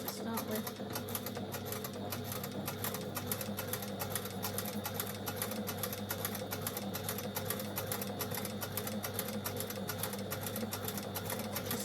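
Domestic sewing machine running steadily while stitching a skirt seam with a few back stitches, a continuous fast mechanical whir with rapid needle ticking, close up and fairly loud, with a person's voice over it.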